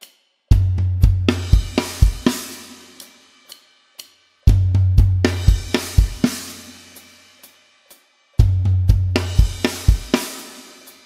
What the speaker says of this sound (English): Crash part three sounds like this